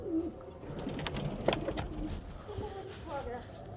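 A pigeon coos softly nearby amid rustling and light background noise, with people speaking faintly in the surroundings.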